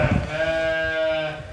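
A ewe bleats once in a long, wavering, close cry at a lambing pen, with faint background rustle and no talk.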